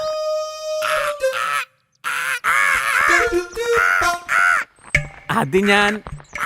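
Loud, harsh crow caws come in a rapid run of close bursts with short pauses between them.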